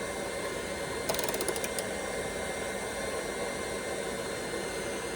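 An induction heater works on a Jeep Wrangler body bolt, giving a steady, loud broadband hum with a short burst of rapid crackling ticks near the start, then settling back into a continuous drone.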